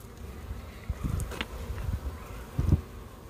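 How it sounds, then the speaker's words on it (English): A low, dense buzzing of many honeybees close by in a 3-pound package of bees, with a few sharper bumps and rustles rising over the steady hum. "A 3-pound package of bees."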